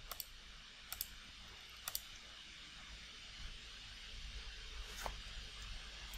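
A few sharp, quiet key presses on a Mac computer keyboard, sparse single clicks spaced over several seconds against a faint background hiss.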